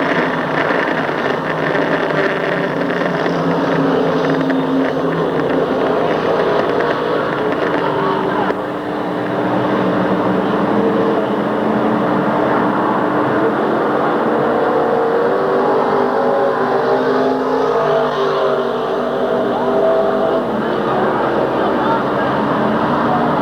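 Stock cars circle a speedway under caution behind a Chevrolet pace car, engines droning steadily and loud throughout, with a race announcer talking over the rumble.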